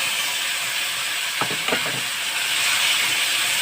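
A hand-ground paste of ginger, cumin, coriander and dried chilli fries in oil, giving off a steady, hissing sizzle with a few brief scraping stirs midway.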